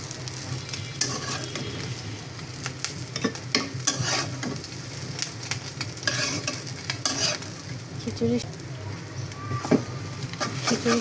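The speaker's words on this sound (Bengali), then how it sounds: "এখন আমি ডিম ভেজে নেব।" Eggs frying in a pan, a constant crackling sizzle with frequent scraping stirs and spatula taps close by, occasional faint background sounds.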